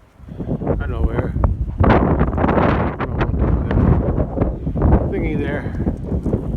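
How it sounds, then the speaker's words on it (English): Wind on a cold, windy day outdoors buffets the microphone with a steady, rumbling roar that swells and dips throughout, while a person talks over it. "It's another windy day today and cold."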